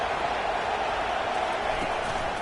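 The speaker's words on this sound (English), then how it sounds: "This crowd bringing the energy and noise early." Stadium crowd roar in a college football video game, a steady dense wash of cheering and noise that fills the whole stretch without letting up.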